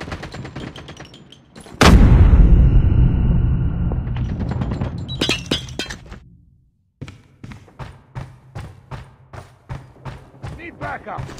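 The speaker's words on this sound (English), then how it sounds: "Grenade!" A grenade explosion in Call of Duty Mobile lands as a sudden, very loud close boom that rumbles and decays over a few seconds, followed by rapid bursts of gunfire.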